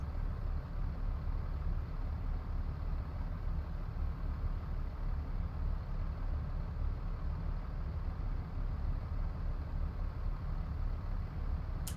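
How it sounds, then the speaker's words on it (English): Truck engine in American Truck Simulator, a steady low droning rumble that holds at an even level throughout, continuous with no breaks or gear changes. "this actually sounds like a truck to me without the need to use an engine mod"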